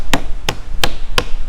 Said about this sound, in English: You can see already it's hammering over pretty easy.